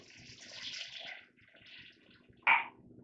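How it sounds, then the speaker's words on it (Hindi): Measured glasses of water poured into a pot of soaked rice for potato and pea pulao, a soft splashing pour near the mic followed by a brief louder splash at the end. "हम 5 गिलास जो है पानी डाल रहे हैं"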